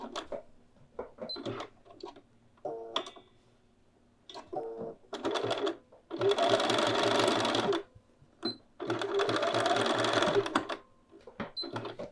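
A sewing machine zigzag-stitches a small fabric loop in place at a garment neckline, running in two steady bursts of a couple of seconds each, separated by quiet pauses and short mechanical clicks.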